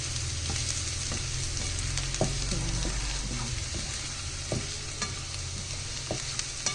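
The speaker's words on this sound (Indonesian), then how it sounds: "Ini kita tumis sampai dia berubah warna bawang putih dan bawang merahnya." Garlic and shallots sauté in a pan with a continuous crackling sizzle. Repeated stirring clicks and scrapes sound near, and there is no speech.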